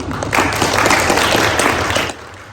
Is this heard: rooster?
no